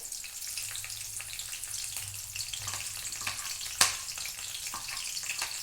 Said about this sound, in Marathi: मिरची मस्त भाजू द्यायची तेलात